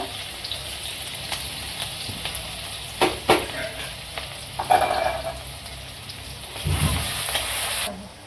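A crushed green chilli and ginger paste fries in hot oil, giving a steady close sizzle with spatula scrapes and stirring knocks, growing louder in a hissing burst near the end.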